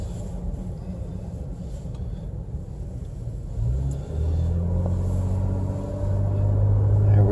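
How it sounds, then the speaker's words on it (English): A 2019 Ford Ranger Base Camp rolls over speed bumps, its engine rumbling low and steady with bumps and jolts around the midpoint, and the drone grows louder and heavier toward the end. "Here we go over the speed bumps."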